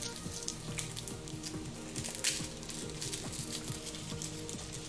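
Garlic fries in a single pot over medium heat for one-pot creamy pesto chicken penne, making a quiet, steady sizzle with crackly patter throughout, close but soft, with no voices.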